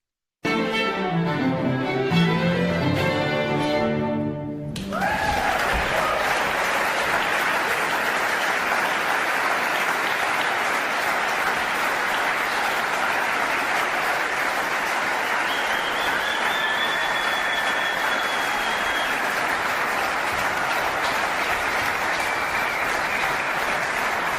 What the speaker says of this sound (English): you'll see the statistics here of like how this like synchronous clapping emerges, and you'll also hear some shouting